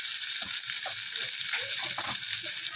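A spoonful of sesame seeds sizzling in a pan over low gas, a loud, continuous hissing fry with small crackles and pops running throughout.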